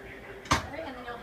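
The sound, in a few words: drawer of a CubeX cabinet being closed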